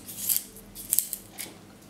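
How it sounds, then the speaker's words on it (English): A pencil being sharpened by hand for a drawing lesson, giving a few short scraping, shaving bursts that are fairly close and quiet, with no talking. "So sharpen the pencil."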